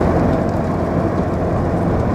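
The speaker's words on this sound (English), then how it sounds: "It's raining." Steady rain drums on a vehicle during a summer camping trip drive, a dense continuous wash of noise with a deep rumble beneath, loud and unbroken throughout with no voices.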